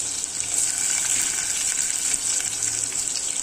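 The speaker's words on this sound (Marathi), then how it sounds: "कांदा टाकते परतायला" Onion sizzles steadily in hot oil in a pan, a close, continuous hiss of frying with no voices and no pauses.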